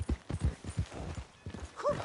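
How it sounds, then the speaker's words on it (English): Horse hooves in the video game Red Dead Redemption clop in a quick, even rhythm, close and fairly soft, with a brief whinny-like call near the end. "Hey! My horse!"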